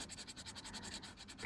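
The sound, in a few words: erasing pencil on watercolor paper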